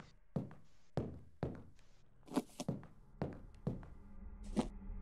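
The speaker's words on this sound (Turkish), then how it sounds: "İlk kapıyı zorlama sesi geldi." Heavy knocks and thuds against a door as it is forced in the horror game Welcome to the Game 2, arriving in an irregular series of about nine blows with faint talk now and then.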